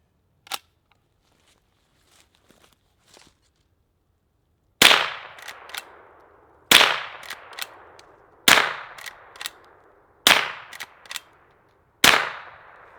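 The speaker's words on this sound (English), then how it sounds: "we are going to start with the 22 long rifle out of this Henry lever action" A Henry lever-action .22 Long Rifle fires five sharp, loud shots about two seconds apart, each with a short ringing decay and light mechanical clicks of the lever working between them, after a few faint handling taps.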